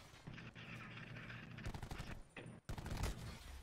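Gunfire in a Black Ops 4 three-versus-three Hardpoint match, sounding as dense bursts of shots that swell and cut off with a brief gap before a louder final volley.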